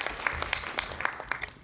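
Faint, sparse applause from a conference audience at a development-bank side event, with scattered individual claps briefly patterning across a quiet room.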